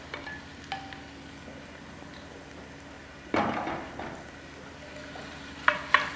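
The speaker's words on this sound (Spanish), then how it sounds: "primero se tiene que rehogar la cebolla" Onion being sautéed in a pan for a sofrito, a soft steady sizzle broken by a few sharp clinks and scrapes of a utensil against the pan, close and fairly quiet with no talk.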